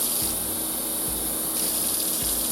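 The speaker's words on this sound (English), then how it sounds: "let's do about that much water in there." Water runs steadily from a tap into a small glass butter dish, a continuous close gush with a few low gurgling bumps and no voices.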